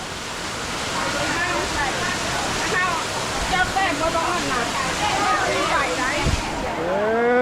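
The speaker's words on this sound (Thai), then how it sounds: "ดูนี่น้ำไหลเข้ามาในวัดเลย" Steady rushing floodwater flows into temple grounds, a continuous broadband flow with a voice speaking over it and occasional splashes.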